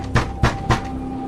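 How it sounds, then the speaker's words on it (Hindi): Three evenly spaced knocks on a door ring out close and alone, with a faint steady hum behind them, in a rain-soaked night scene of a horror story. "कुछ पल की खामोशी के बाद एक बार फिर से वही दस्तक गूंजी।"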